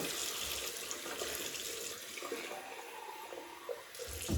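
Tap water runs steadily to soak a thick-knotted shaving brush at a sink, a constant moderate splashing flow throughout with no voices.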